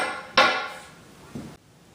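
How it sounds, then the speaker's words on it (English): A hammer strikes a small screwdriver to loosen an interior door hinge pin, two sharp metallic taps, the first louder, each ringing briefly before cutting off. "To take it out, just get it loose with a small screwdriver and a hammer."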